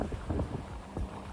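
Gusty wind on a Punta Cana beach buffeting the microphone in low rumbling bursts, with a soft hiss of surf or rain behind it.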